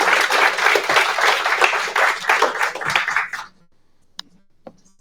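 Audience applause at a green tech talk event, a dense burst of clapping for about three seconds that fades quickly, followed by a couple of isolated claps in the quiet.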